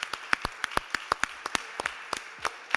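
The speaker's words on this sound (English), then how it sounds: "So give a big round of applause to yourselves" Sparse, scattered clapping from a small conference-stage audience at a startup summit, individual sharp claps spaced irregularly and fairly close, with no talk over them.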